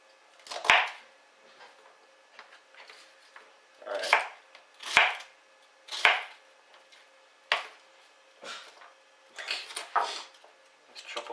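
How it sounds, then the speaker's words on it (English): Knife chopping ingredients for a French bouillabaisse soup on a cutting board, with sharp irregular thuds and clusters of quick cuts, close and fairly loud, some faint voice in the background. "I'm just chopping it up."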